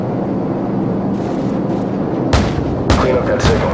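Explosions and gunfire in the war game Call of Duty 4, heard as a constant low rumble broken by several sharp booming impacts in the last second and a half, with radio-style voices talking over it.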